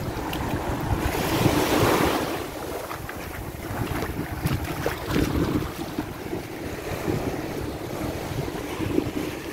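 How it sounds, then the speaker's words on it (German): Wind buffeting an open microphone at Playa Rincón beach, a steady loud rumble with gusts, over waves washing in the background; no one speaks. "jetzt kommt ein bisschen Wind"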